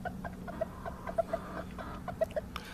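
Game fowl hens cluck close by, a series of short, soft clucks at irregular intervals over a low background hum.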